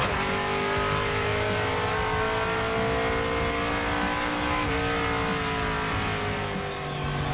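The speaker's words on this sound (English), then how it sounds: "decent launch, faster shifting, little more RPM, hit a rev limiter just a tiny, tiny bit" 1956 Chevy field car launching hard and shifting quickly through the gears, briefly touching the rev limiter: a loud, steady engine roar that climbs in pitch, with a short break at a gear change, heard close and alone.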